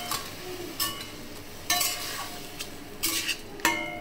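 Spoon stirring mutton curry with ginger, garlic, onion, tomato and spices in a pan, giving several separate scraping strokes with a soft sizzle between them, close and clear, no talking.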